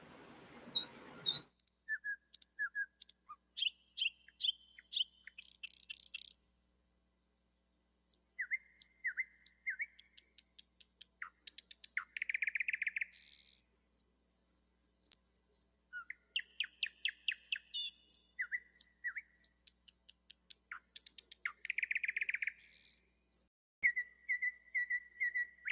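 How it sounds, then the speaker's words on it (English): Several birds chirp and whistle outdoors in repeated bursts of varied calls and trills, some near and clear, with short quiet gaps between phrases and no talking. "Oh, we got a bird out there, Debbie."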